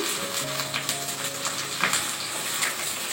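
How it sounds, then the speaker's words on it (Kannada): Curry leaves dropped into hot oil give a crackling sizzle with a few sharp pops, steady and close, over faint background tones. "ಫ್ರೆಂಡ್ಸ್, ಇವಾಗ ಕರಿಬೇವು ಹಾಕ್ತಾ ಇದ್ದೀನಿ."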